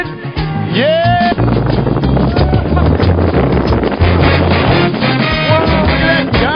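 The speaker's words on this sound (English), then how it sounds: "Whoa, look at that gusting!" Strong gusting wind during a 2008 snow storm in West Seattle roars loudly and continuously against the microphone, while excited voices whoop and shout over it.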